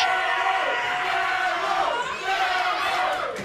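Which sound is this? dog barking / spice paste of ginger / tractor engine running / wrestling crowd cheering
wrestling crowd cheering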